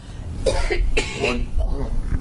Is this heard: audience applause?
no